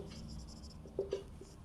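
A pen scratches on paper while someone writes out the given data for a class 9 quadrilateral geometry problem: quiet, close strokes with a couple of brief louder scrapes.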